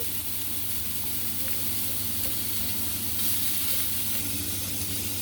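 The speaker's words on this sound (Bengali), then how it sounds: "কড়াইয়ে বসিয়ে দিয়েছি আর এখন পেঁয়াজ দিলাম" Onions sizzling in a hot wok with greens and potatoes for a prawn curry, a steady, close hiss of frying with no break.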